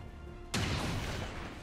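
A sharp gunfire burst from an XCOM 2 rapid-fire attack breaks a quiet background, followed by a loud, dense rumbling tail that fades slowly.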